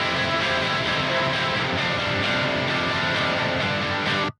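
Clean and distorted electric guitar amps blended with EQ and compressor plugins in a band-style tone, a loud, steady, full-band strummed guitar wall that cuts off sharply at the end.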